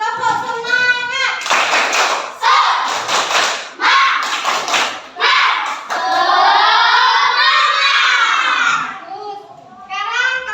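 Grade-four schoolchildren in a classroom perform a rhythmic clapping chant, bursts of sharp hand claps alternating with loud chanted voices in a patterned beat, led by a teacher.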